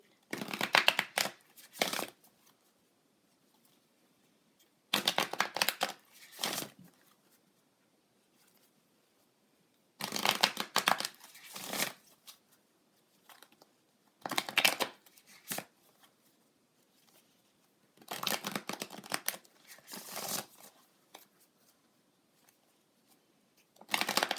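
A tarot Moon deck is shuffled by hand before a card is pulled, with six separate bursts of crisp riffling and flicking cards, each about a second or two long, set apart by quiet gaps.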